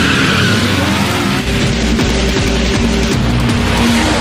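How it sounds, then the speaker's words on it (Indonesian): Race cars in a film scene roar past with engine noise, tire squeal and skidding, loud and continuous throughout, with no talking. "Tak lama mereka pun bersiap dan balapan pun dimulai."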